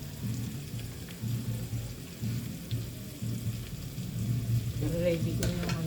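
Onion, garlic and ginger fry in a pan, making a soft, continuous sizzle at moderate distance. A low hum runs underneath it, and a few utensil clinks come toward the end.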